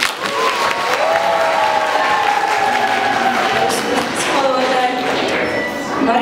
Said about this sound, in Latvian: Sveicam ar aplausiem Inna Čik.